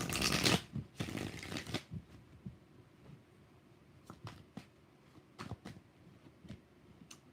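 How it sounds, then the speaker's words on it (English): A deck of tarot cards is shuffled by hand in bursts: two loud riffling runs at the start, then softer scattered card taps and flicks, close up and without talk. "Two more shuffles for Ganna V."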